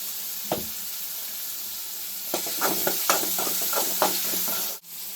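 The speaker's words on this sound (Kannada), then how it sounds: "ಕೆಂಪಿಗಾಗೋವರೆಗೂ ಚೆನ್ನಾಗಿ ಫ್ರೈ ಮಾಡ್ಕೊಳ್ಳಿ." Chopped onions frying in a hot pan for an onion dosa and Bombay sagu, a steady sizzle running throughout with a series of spoon stirs and scrapes against the pan in the second half, close and clear with no talk.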